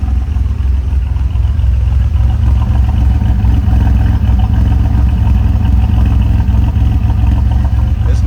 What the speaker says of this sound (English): Let's go back and give a listen to what's coming out of those tailpipes.